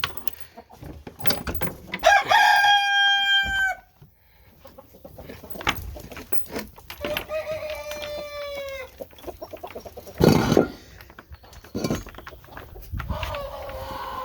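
Roosters within a large flock of chickens crow three times in turn, ringing and drawn out, amid constant clucking, scuffling and a few sharp squawks close by.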